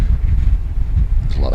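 A strong wind storm at Dubai Marina while rollerblading: a loud, steady, buffeting roar of wind hits the microphone up close for the whole moment.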